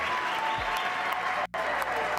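Applause and cheering from a large audience in a chamber at a State of the Union address, a dense continuous roar of clapping that briefly drops out for an instant before resuming.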